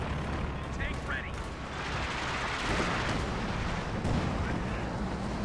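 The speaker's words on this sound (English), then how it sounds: "More Calliope barrages." Calliope rocket artillery barrages pound the battlefield in Company of Heroes 2, a dense rumbling roar of continuous blasts and fire that runs throughout at moderate loudness, with a few brief whistling streaks early on.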